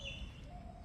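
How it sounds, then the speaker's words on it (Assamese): Faint birds chirp with a few high, thin calls in the calm morning air outside the meditation pyramid at Pyramid Valley International in Bengaluru, set against a soft low ambient hum. "পিৰামিডৰ বাহিৰৰ সমগ্ৰ পৰিৱেশটো সুন্দৰ আৰু চৰাই চিৰিকটি"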